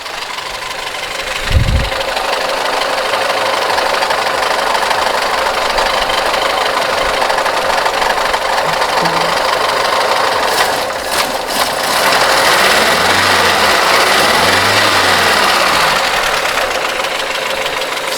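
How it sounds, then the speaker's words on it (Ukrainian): A cold GAZ-24-02 Volga engine idles on choke, steady and loud up close with a rough, ticking rattle, joined later by a few brief revs. "Звісно, зараз вона холодна на підсосі."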